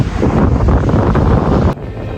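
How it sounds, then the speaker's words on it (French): Strong wind buffets the microphone on a beach in Brittany, a loud continuous roar with no voices, dropping slightly in force near the end. "je ne sais pas si vous allez m'entendre parce qu'il y a beaucoup de vent"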